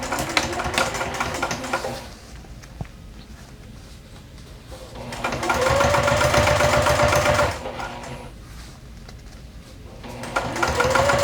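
A sewing machine stitches the side seams of a fabric exterior and lining together, running in three steady bursts of rapid mechanical whirring separated by quieter pauses.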